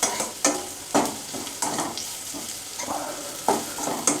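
Garlic sizzles in hot oil for a poha chivda, with a spatula scraping and stirring in irregular bursts every half second or so, close and fairly loud, no voices.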